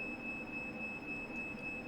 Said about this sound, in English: our fire alarm just went off